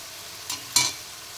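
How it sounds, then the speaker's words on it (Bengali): Leafy greens fry in a wok, a low steady sizzle broken by two quick spatula scrapes close by, the second louder, with no talking. "এবার আমি অল্প কিছুক্ষণ নেড়ে চেড়ে নেব"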